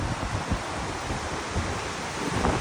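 Ocean surf rushes steadily at the end of a sea cave on Enoshima, Japan, a continuous broadband wash with no break and no voices.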